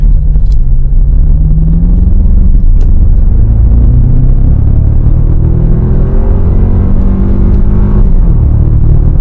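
A loud engine rumbles close by as a 2024 Toyota Tacoma TRD Pro pickup accelerates, its pitch climbing steadily, with a brief shift near the end.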